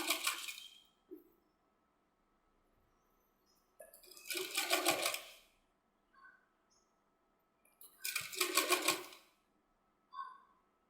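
A sewing machine stitches a bell sleeve in three bursts of rapid needle chatter, close and fairly quiet, with soft handling clicks and fabric sounds between them.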